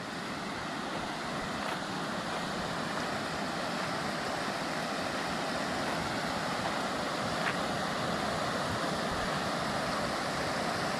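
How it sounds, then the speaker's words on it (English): River rapids rush steadily nearby in a continuous broadband roar of moving water, with no break or change in level. "we have a few rapids right here"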